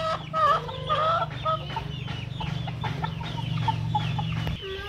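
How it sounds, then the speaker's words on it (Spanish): Hens cluck continuously and fairly close by in a busy, overlapping chorus with irregular short calls, over a steady low hum that cuts off just before the end. "Falta la otra gallina, pero está comiendo todo."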